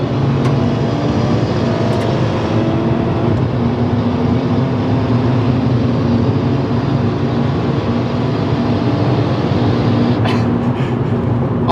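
Subaru Legacy and a Honda Accord 3.0L racing side by side, a loud sustained engine drone with road and wind roar heard from inside a car, steady throughout with a brief click near the end.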